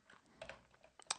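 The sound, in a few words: typing a command on a computer keyboard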